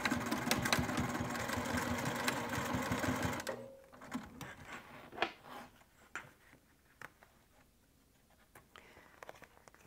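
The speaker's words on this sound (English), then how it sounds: "Now you're going to go ahead and sew using a 3/8 inch seam allowance." A sewing machine runs steadily for a few seconds stitching fabric at a 3/8 inch seam allowance, then stops, followed by quiet handling clicks and rustles of the cloth.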